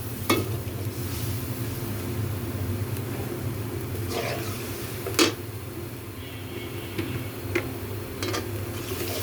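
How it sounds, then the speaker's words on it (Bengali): Garlic frying in a pan as spices go in, a steady close sizzle with scattered sharp ticks and a few louder crackling bursts, no talk. "রসুনটা আমার ভালো ভালো হয়ে গেছে। এখন অন্যান্য মশলা দিয়ে দিব।"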